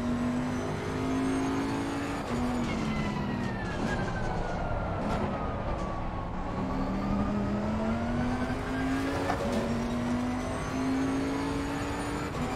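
A GT race car in Assetto Corsa Competizione at Paul Ricard drives hard, its engine note droning steadily and sweeping down and up through gear changes and braking, loud and continuous with no talking.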